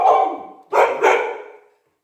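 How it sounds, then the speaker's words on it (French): Excited dog barking over kibble: a long rough bark-whine, then two quick sharp barks close to the mic, trailing off into silence. "un chien dingue de croquettes"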